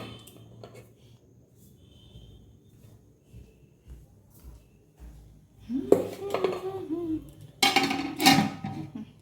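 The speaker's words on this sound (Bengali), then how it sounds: "ঢেকে দিয়েছি, হাঁড়িটা ঢেকে দিয়েছি" A cooking pot for rice being covered with its lid: a quiet stretch, then two loud clattering bursts of metal clanking and scraping close by, with faint background voices.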